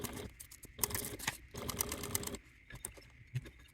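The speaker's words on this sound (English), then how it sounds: "You want to top stitch at a 1/8 seam allowance below that lower slit." A sewing machine top-stitches a bi-fold wallet piece in short rapid bursts. The quiet, close mechanical chatter starts and stops with brief pauses between runs.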